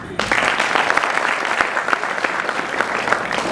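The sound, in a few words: audience applause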